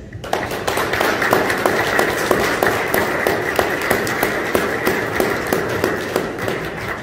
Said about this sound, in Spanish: les voy a pedir un caluroso, fraternal aplauso